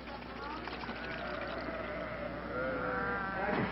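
Sheep bleating in a livestock pen, several drawn-out wavering calls overlapping one another, fairly close and getting louder toward the end over a constant background hum.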